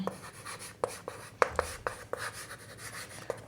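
A pen scratches across paper as a math equation is written out by hand, a series of short, close strokes and taps in an irregular rhythm, quiet and without talk.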